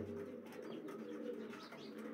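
Low flyer breeding pigeons coo softly in a loft, a faint, steady low murmur with no voices.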